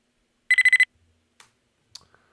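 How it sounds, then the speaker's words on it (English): A spider in a video game gives a proximity alert: a burst of five rapid, bright electronic beeps, followed by a few faint, scattered clicks and blips. No one speaks. "As the spider wanders around and gets closer and closer to you, it makes a beeping sound."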